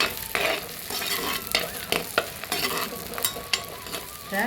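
Onions sauté in oil in a clay pot, sizzling steadily up close while being stirred, with scraping strokes scattered throughout and no voices.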